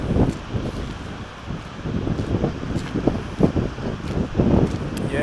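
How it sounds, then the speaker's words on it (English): Outdoors at Seljalandsfoss waterfall in Iceland, gusty wind buffets the microphone with loud, uneven low rumbling bursts over a steady roar of background noise. "Hope the mic is not picking up too much of the wind."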